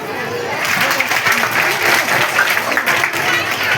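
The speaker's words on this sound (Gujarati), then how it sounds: "આપણે તાળીઓના ગડગડાટથી વધાવી દઈશું બહેન ભાવને." A school event audience applauds schoolgirls, a dense steady round of clapping from a crowd that holds throughout at close range.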